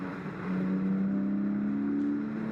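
A Porsche 718 Boxster GTS 4.0 exhaust drones steadily at idle, then rises slightly in pitch and volume as the engine revs up, rumbling continuously and close by.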